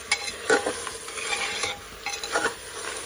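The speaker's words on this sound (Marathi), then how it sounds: "आपण जे बारीक केलेला मसाला आहे मिरचीचा तो त्यामध्ये टाकायचा व ते चांगले भाजून घ्यायचा" Ground chili masala roasts in a pan as a spoon stirs it, making soft scraping strokes and light rustles over a low sizzle, a few brief clinks of the utensil against the pan, close and moderately quiet.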